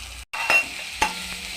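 Chopped tomatoes and onions with salt and turmeric sizzle in hot oil as a utensil stirs them, with a couple of short scraping strokes and a brief gap in the sizzle, no voices.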